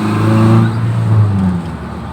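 A Daihatsu Gran Max pickup's engine hums steadily under load while accelerating through the gears, a smooth, fairly loud drone with a slight dip in level near the end.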